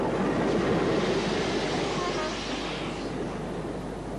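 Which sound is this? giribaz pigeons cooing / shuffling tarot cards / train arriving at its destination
train arriving at its destination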